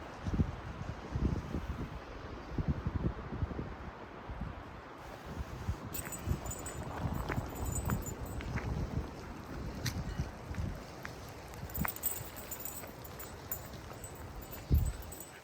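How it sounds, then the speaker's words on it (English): Strong gusty wind outdoors during a dog walk ahead of rain, buffeting the microphone in continuous rough rumbles with rustling in the background and no talk. "It's way too windy out here."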